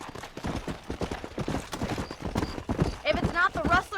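Steady clip-clop of a horse's hooves at a gallop in Red Dead Redemption, rhythmic and close throughout, with a voice talking over it and a brief whinny near the end.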